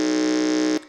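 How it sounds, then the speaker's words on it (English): A quiz contestant's electronic buzzer sounds once in a loud, steady, harsh electronic tone for under a second before cutting off abruptly into room echo, at a school science and maths competition. "we would like to hear the sounds of the buzzers of each of the schools"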